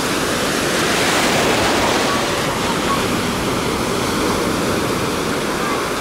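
Sea waves wash onto a hotel beach in the Oba district of Alanya, a loud, steady, unbroken roar of surf close by.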